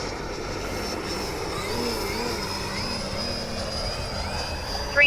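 Vampire Venom 90mm electric ducted fan RC jet flying at full speed, a steady loud whooshing whine that holds evenly throughout, with a faint gust near the end.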